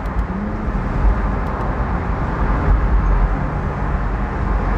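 Steady, loud engine and road roar from a BMW M235i convertible with a six-cylinder petrol engine cruising, a continuous broadband drone with no talking.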